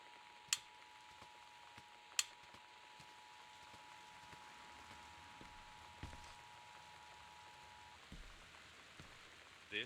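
Soft, steady rain hiss in the game Gone Home, a faint continuous wash with a few sharp ticks and a long thin electronic tone running underneath for most of the stretch.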